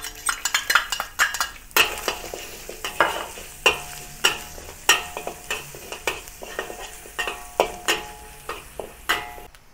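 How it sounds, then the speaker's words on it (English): Garlic sautéing in oil in a wok, stirred with a utensil: a low steady sizzle under repeated sharp scraping and clanking strokes against the metal, close and fairly loud throughout. "Now saute the garlic with the remaining oil."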